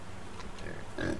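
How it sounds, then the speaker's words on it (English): Pig in the survival game Subsistence grunting in short bursts, a couple of faint snorts followed by a louder, closer grunt near the end, over a steady low background hum. "But hey, we killed a pig."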